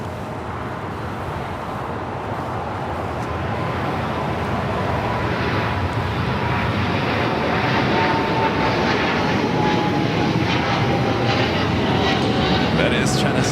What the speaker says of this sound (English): That is China Southern Cargo Flight 448 heading to Shanghai. The 777 freighter, 4 years of age, disappearing there into the fog.